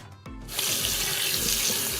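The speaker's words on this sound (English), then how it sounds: "So I'm going to go ahead and scrub the pan." Running water from a kitchen sink tap gushes steadily and loudly close by while a rusty pan is scrubbed under it, the rushing stream continuous with faint scraping pulses beneath.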